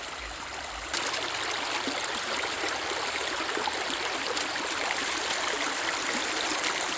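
A Georgia creek flows steadily and close by in the late-day quiet, a constant rushing babble that begins abruptly and then runs on without a break.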